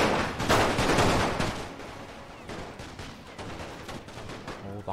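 Battlefield gunfire in Total War: Napoleon with a World War I mod, opening with a loud crackling volley that fades into scattered distant shots and rattling fire under a low rumble.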